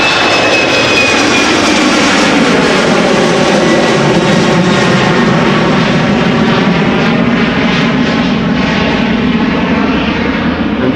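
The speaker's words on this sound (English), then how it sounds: "This is a KLM B739 on its way to Gdansk, flight 1303" A KLM Boeing 737-900 jet departs Amsterdam Schiphol with a loud, close, sustained engine roar, its pitch gently sweeping as the plane passes.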